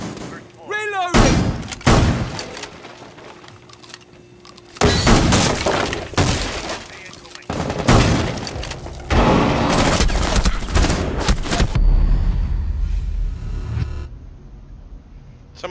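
Gunfire bursts and shattering glass in Rainbow Six Siege, a team deathmatch on the Park map: repeated loud volleys of shots and crashes of breaking glass, with brief quieter gaps between them and voices talking under the action.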